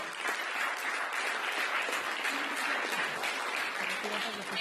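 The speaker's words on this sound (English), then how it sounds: "please put your hands together and applaud" Audience applause at a high-level diplomatic awards ceremony in New Delhi, a dense, steady wash of many hands clapping together that holds for several seconds at even strength, with voices faintly mixed in.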